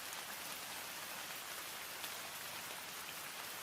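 Steady, dense rain falls without pause, a continuous hiss of drops on surfaces with no voices.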